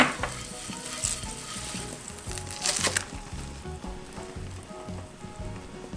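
Butter sizzles and crackles in a frying pan on medium-low heat while potato bread is pan-baked, a steady close frying hiss with scattered pops and light stirring or scraping, no speech.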